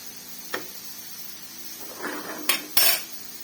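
A spoon scraping and clanking against a pan while cabbage, capsicum and green chillies are stirred, a few separate knocks and scrapes with a bright metallic clatter near the end.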